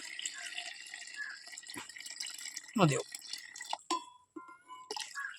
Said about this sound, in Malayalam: ഇനി വെള്ളം ഒഴിക്കട്ടാ. വെള്ളം ഒഴിച്ചിട്ട് ജസ്റ്റ് ഒന്ന്